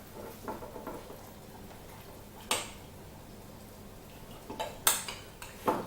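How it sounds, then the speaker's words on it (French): Cornstarch being stirred into broth in a Cookeo pot for a turkey blanquette, with quiet background and a few sharp spoon clinks and scrapes against the pot at irregular intervals. "Bien délayer la maïzena avec le bouillon."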